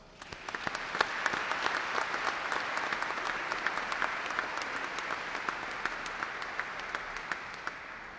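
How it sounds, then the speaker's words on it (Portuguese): A full round of applause from the audience at a solemn ceremony honouring academics at the Rio de Janeiro state legislature: sustained, even clapping that lasts about eight seconds with no talking. "eu gostaria de pedir uma salva de palmas"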